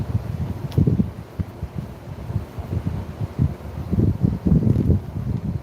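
Gusty outdoor wind buffets the microphone in low rumbling bursts that rise and fall unevenly for several seconds, with no voices present.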